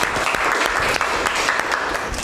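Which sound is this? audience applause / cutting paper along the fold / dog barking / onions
audience applause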